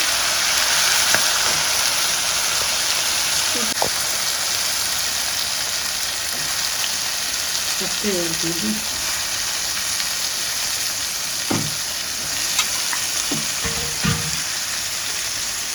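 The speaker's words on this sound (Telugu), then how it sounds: "ఇవి బాగా ఆయిల్లో వేగల్లా వేగనిద్దాము" Brinjals with fresh curry leaves fry in oil in a pan for a tomato curry, a soft steady sizzle with occasional stirring scrapes and clicks, no talking.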